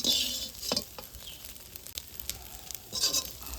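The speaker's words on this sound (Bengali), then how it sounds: "ম্যারিনেট করা সোয়াবিনগুলো এবার লাল লাল করে ভেজে নেব" Marinated soybeans fry in a pan, giving a soft, steady sizzle. A spatula stirs and scrapes against the metal in a few close, brief strokes.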